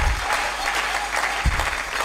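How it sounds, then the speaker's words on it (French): A church congregation applauds, a steady, full wash of clapping from many hands that carries through the whole moment, with a few voices faintly mixed in. "Acclamons très fort pour le."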